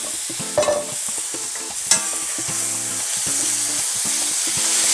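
Meat frying in a pan at maximum heat, a loud continuous sizzle with repeated clattering stirs and scrapes and a couple of sharp spatter bursts.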